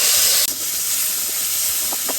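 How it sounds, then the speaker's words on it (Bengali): A ground paste of onion, garlic and cumin fries in a kadai with a loud, continuous steamy hiss that dips briefly and carries on, with a couple of faint clinks near the end. "বাটা মশলা ভুনিয়ে নিছি"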